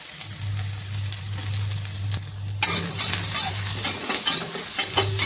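Small soybean chunks frying in a pan, a low hum at first, then a sudden bright crackling sizzle as they hit the oil, continuing densely with light stirring taps, close and steady.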